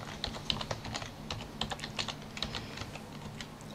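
A password being typed on a computer keyboard, a fast close run of light key clicks with no talk.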